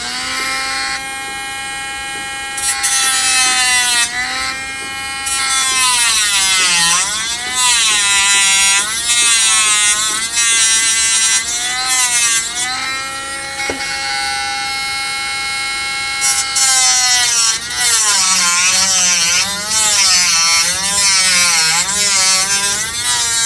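Dremel rotary tool trimming plastic parts of a 1/25 Fujimi Shelby Cobra model kit, a loud, steady high-pitched whine that rises and falls in pitch as the bit bites and eases, running almost continuously for over twenty seconds.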